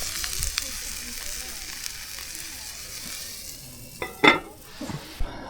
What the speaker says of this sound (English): Aside from cooking pork here, you could also stir fry using the pan.